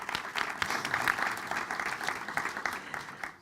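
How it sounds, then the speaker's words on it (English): An audience at a panel discussion claps in a steady wave of applause that stays full for several seconds before tapering off at the end. "A round of applause for all of them."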